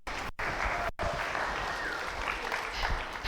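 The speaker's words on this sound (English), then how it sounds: "Give me a round of applause." A church congregation applauds during a Sunday sermon, a dense wash of clapping that fills the room for a few seconds after two brief cutoffs at the start.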